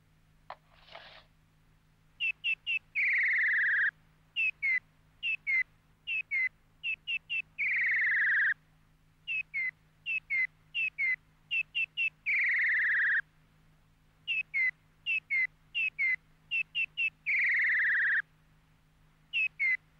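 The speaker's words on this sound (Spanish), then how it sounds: "el tono del pájaro mecánico es más perfecto que el del pájaro de verdad" A mechanical toy bird sings alone in repeated bright warbling phrases and trills, short chirps alternating with longer whistled runs at a steady rhythm, over a faint low hum.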